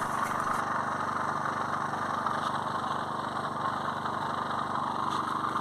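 A portable power generator runs steadily beside a wooden cabin in -16 °C frost, its engine drone constant and fairly loud for the whole stretch with no pauses.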